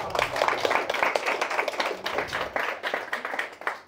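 An audience at a francophone stand-up comedy show claps steadily and densely, close and lively throughout, with no voices on top.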